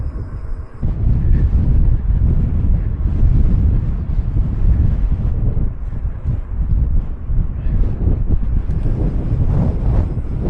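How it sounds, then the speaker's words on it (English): Loud, constant wind buffeting the microphone in heavy low rumbling gusts while cycling a road in the Atlas Mountains, with no other sounds standing out. "It really is windy here"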